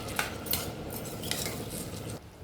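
A utensil stirs carrots and tomato paste frying in a pan, with soft scraping clinks over a faint sizzle, fairly quiet and close.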